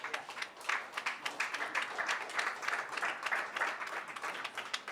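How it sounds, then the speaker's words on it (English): Audience applause at a centenary celebration for a dancer, with a standing ovation: dense, steady clapping from a large crowd that holds for the full five seconds, close and moderately loud, with no voices over it. "They actually deserve a standing ovation."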